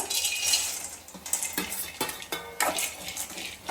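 Cashews and almonds roasting in a pan over a low gas flame, stirred steadily with a spoon that gives repeated scraping and clinking strokes over a soft sizzle, close and moderately loud.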